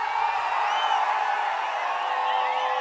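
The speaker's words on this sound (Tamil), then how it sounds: "மிக சிறப்பா எழுச்சியா மக்களுடைய ஆரவாரம்" A large crowd at a political rally in Virudhachalam roars and cheers in a dense, unbroken wash of voices that holds steady and loud from start to finish.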